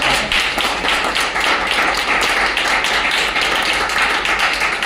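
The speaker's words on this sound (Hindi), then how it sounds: "जोरदार तालियां" Applause from an audience at a health product presentation held in a hotel, a steady dense clatter of many hands clapping that stays loud and even throughout, with no talking over it.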